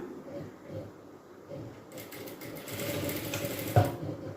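A sewing machine stitches around the collar neck of a chudidhar, a steady mechanical whirr running throughout that swells louder in the second half, with a brief sharp clack near the end.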